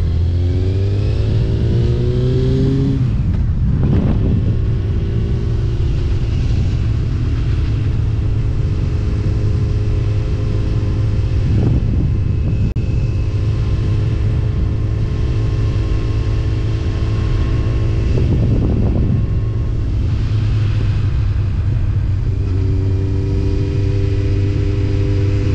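A sport motorcycle on the road, its engine droning steadily and loud throughout, with several rising revs and gear changes as it accelerates, under constant wind rush.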